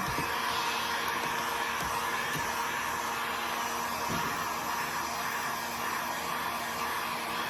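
A heat gun blows a constant, loud, steady whoosh with an electric whine while drying paint on a wooden garden sign with a salt-wash finish, running without pause and without talk.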